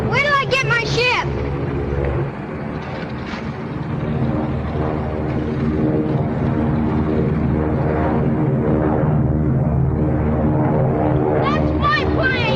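A vintage propeller airplane engine drones steadily at an airfield, loud and continuous throughout, with raised voices shouting over it.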